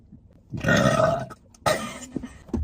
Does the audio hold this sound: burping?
yes